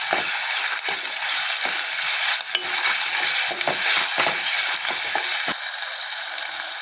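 Ginger paste stirred into golden fried onions in hot oil, a steady bright sizzle with a spoon scraping and clicking against the pan in irregular strokes, close and loud, with no talking.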